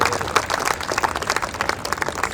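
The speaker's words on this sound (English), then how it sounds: "So big round of applause for all of you taking part in this tournament today." Applause for the players at the final of a girls' under-16 cricket tournament, a steady stretch of dense clapping from a sizeable crowd with no voices over it.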